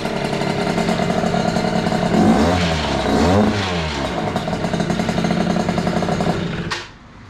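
A Yamaha Aerox moped with a 100cc engine and a 24 mm Chinese carburetor runs close by, rattling steadily and revving in two sweeping rises before the engine cuts off near the end.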